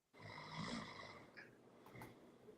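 A person snoring during a casual happy hour hangout, one long rough snore near and fairly loud, followed by a quieter snort-like breath.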